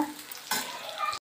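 Green chilies fry in a pan with a steady close sizzle, a stirring scrape joining partway through, and the sound cuts off abruptly before the end.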